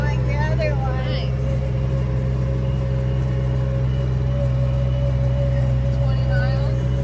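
A Kioti Mechron 2200 utility vehicle drives around a property with a steady, loud engine drone and whine that holds constant throughout, while a person talks over it.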